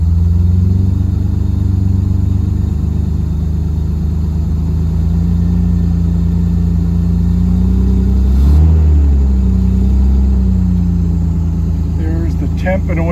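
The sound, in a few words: engine of a 60BN7 running after a cold start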